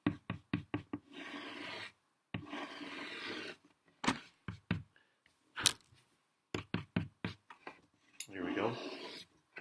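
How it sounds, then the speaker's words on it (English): Soft pastel is scrubbed back and forth onto paper, white over red, producing faint close rubbing strokes in short bursts, separated by light taps and knocks of the stick. "I'm going to take my white and I'm going to scrub it on top of my red"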